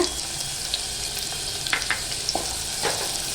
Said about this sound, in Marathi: आता तेल गरम झालेलं आहे तर आपण आता हे तेजपत्ता टाकून घेऊया आणि बारीक चिरलेला कांदा सुद्धा टाकूया